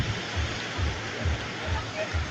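Big waves pounding a shore during a sudden typhoon, a continuous heavy roar of water with rhythmic low surges breaking about every half second, close and loud, voices faint beneath.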